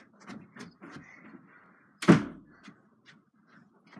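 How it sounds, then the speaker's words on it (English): A door shuts with a single solid thunk in the middle of an otherwise quiet indoor room, preceded and followed by faint shuffling and small knocks. "I'm gonna go back and shut that door."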